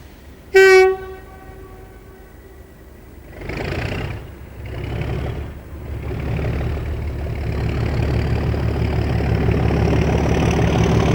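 British Rail locomotive-hauled rush hour train on a Cardiff service in 1998, opening with a short loud horn blast, then a growing diesel engine roar and rumbling wagons building steadily as it passes close by, no talking.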